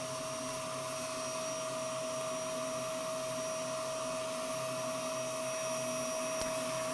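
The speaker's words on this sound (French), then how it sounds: "L'aspirateur, je pense qu'on en aura encore besoin." A vacuum cleaner drones steadily and loudly for the whole stretch, a constant motor whine with a sharp tonal hum and no pauses, close by and alone with no talking.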